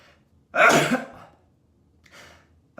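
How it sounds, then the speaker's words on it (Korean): One loud, close cough bursts out, followed by a quieter second cough or throat clear after a short pause, from a person using a nasal suction device for rhinitis. "무슨 기침 기침이 나네"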